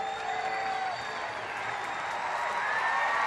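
Baseball stadium crowd at an Oakland versus Texas game cheering and building in a steady, broad roar that swells slightly toward the end, with no talk over it.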